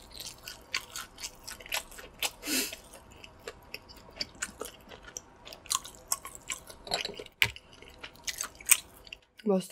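Close, crunchy chewing and biting on a charcoal-grilled chicken drumstick during a mukbang, with moist squishy bites and brief pauses throughout.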